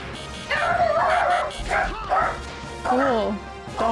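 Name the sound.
dogs barking, from the video game Xenogears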